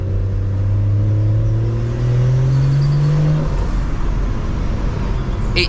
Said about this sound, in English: I don't know if you guys are hearing the turbo spooling, but that is getting me erect, mate. Listen to these downshifts.